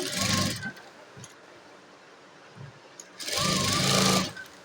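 Sewing machine stitching V-shaped darts into a blouse, running in two loud bursts at the start and again near the end with a few brief clicks between them; no talking.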